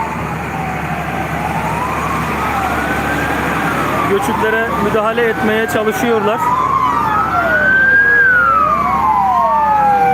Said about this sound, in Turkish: Yani şehirde duyduğunuz tek ses ambulans sesi diyebilirim.